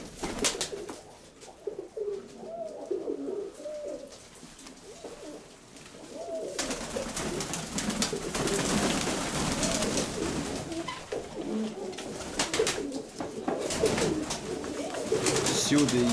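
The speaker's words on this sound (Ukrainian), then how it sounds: "да, це голубочка його" Pigeons coo inside a partitioned attic loft housing several dovecotes, including an old black bird, their soft repeated calls carrying through the clip while people talk nearby, growing louder and busier in the second half.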